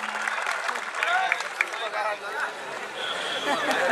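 A crowd claps and cheers at a village kushti wrestling ground in Charohli, with a broad, steady wash of applause mixed with crowd noise and voices through the whole stretch.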